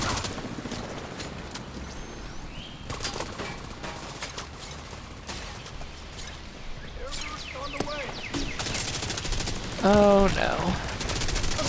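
Bursts of automatic gunfire in a video game combat mission, rapid rattling volleys near and loud, with a brief spoken exclamation and other game voices over the shooting.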